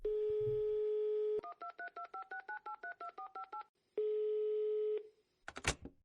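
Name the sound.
telephone dialing tones while calling a kebab shop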